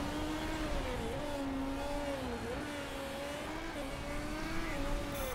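Race car engines in the MotorSport Manager PC game during a wet qualifying session at Munich, two cars on track, producing a steady droning whine with gentle pitch swells as they accelerate and ease off.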